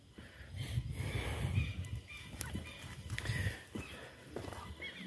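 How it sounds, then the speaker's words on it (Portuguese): Chickens on a country farm plot with vegetable beds, giving soft clucks and fowl calls at moderate distance amid outdoor rustling and low background noise. "Só tá a galinha ali, ó."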